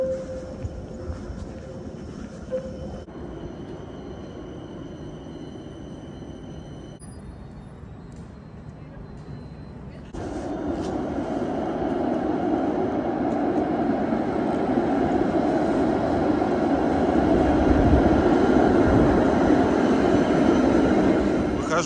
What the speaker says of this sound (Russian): А вот трамвай пошел.